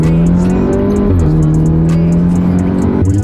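A loud car engine drones close by with a rough, steady idle that dips and rises slightly in pitch.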